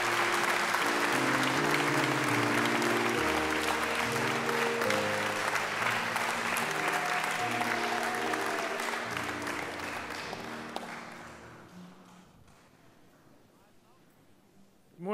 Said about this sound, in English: I give her a big clap.